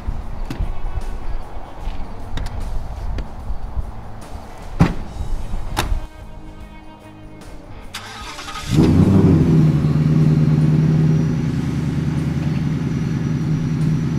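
A twin-turbo Coyote V8 in a custom-built Ford F100 with custom exhaust fires up after several seconds of quiet clicks and knocks, then settles into a loud, steady, rumbling idle.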